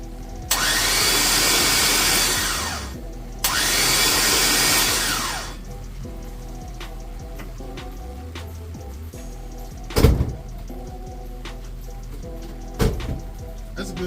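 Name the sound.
6.2 engine cranking over without spark plugs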